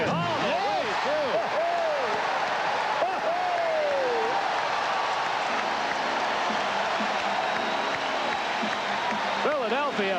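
A basketball arena crowd roars steadily through the 1991 Bulls versus Sixers game 3, a constant wash of cheering with squeaky high tones at the edges and broadcast commentary over it.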